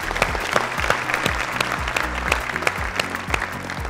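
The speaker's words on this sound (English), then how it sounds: "Can we give them a big round of applause?" A big round of applause from the studio audience at a televised quiz competition, loud and sustained clapping with a pulsing musical beat running underneath.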